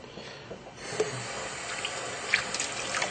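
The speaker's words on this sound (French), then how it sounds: "On va commencer par laver notre dal." Tap water runs and splashes over Indian lentils being washed for dal, a soft steady trickle with small drips and clinks from the rinsing, no talking.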